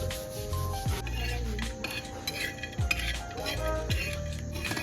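Raw masala being ground by hand on a stone slab (pata) for wood-fire-cooked chicken: rough, rhythmic scraping strokes about once a second, close by, over a steady tonal background.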